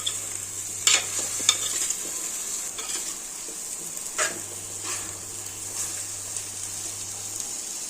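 Chicken curry masala in a pan gets stirred with a spoon, giving soft scraping and clinking strokes over a continuous sizzle, close by and moderately quiet, with no talking.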